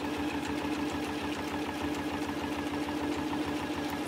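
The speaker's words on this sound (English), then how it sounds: "so I'm sewing along this open edge here" A sewing machine stitches bias binding along the open folded edge of a fabric mug caddy, running in a steady, continuous motor whir with fast regular needle pulses throughout, close and alone.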